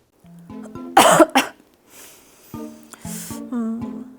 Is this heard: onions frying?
no